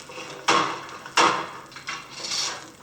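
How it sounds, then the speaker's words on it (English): The beater of a hand loom in a carding mill packs threads with two heavy wooden thuds about half a second apart, followed by softer knocks and rattles. "That heavy sound is the beater packing the threads tightly together."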